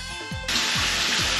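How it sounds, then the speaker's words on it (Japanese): A hotel bathroom shower is suddenly turned on, and a strong, steady spray of water hisses close by without pause after a quiet start. "シャワーの水量も十分。"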